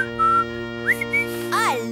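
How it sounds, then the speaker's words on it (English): A bright whistled tune in a children's circus cartoon, several short rising and falling phrases played over a steady musical backing. "Wilburifico loved to whistle wherever he would go"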